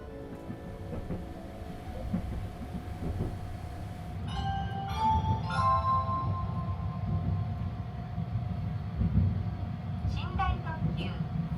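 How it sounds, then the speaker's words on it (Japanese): The Sunrise Seto sleeper express rolls on after leaving Okayama Station, bound for Tokyo. From inside the train comes a steady low rumble of the running carriages, with brief chime-like tones partway through. "ついにサンライズ瀬戸が岡山駅を出発しました。"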